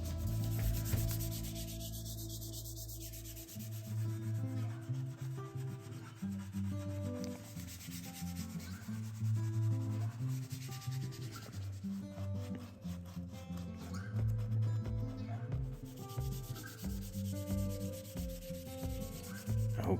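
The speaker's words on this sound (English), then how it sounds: "finally the rough sanding of the entire guitar" Rough sanding across a wooden guitar body, working toward 220 grit: continuous rhythmic scrubbing strokes, close and steady for the whole stretch, with a brief squeak early on.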